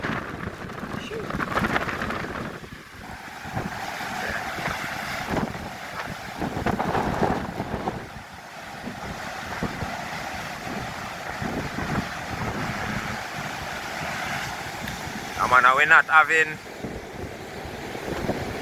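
Strong wind and rough sea on the east point of Portland, Jamaica, as Hurricane Melissa approaches: a constant roar of gusts buffeting the microphone with surf underneath, while someone talks over it.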